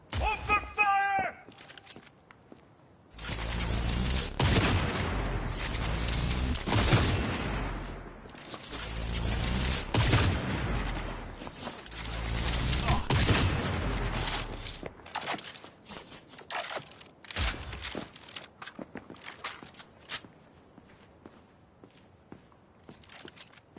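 Gunfire and explosions in the video game Cyberpunk: loud bursts of shots and booms in repeated waves, with mechanical clanks and footstep-like thuds between them and quieter stretches late on; a voice speaks briefly in the game.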